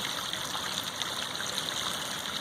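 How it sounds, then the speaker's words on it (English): Backyard garden water feature with water shooting down a slide-like channel and off the end, a steady close hiss of rushing, splashing water without pause. "the way the water shoots down it like a slide and then ramps off the end"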